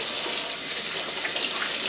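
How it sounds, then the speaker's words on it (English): Cold tap water pours steadily over raw, trimmed chicken pieces being rinsed in a sink, a continuous close hiss and splash with no talk. "After you do that, you're going to run it over cold water."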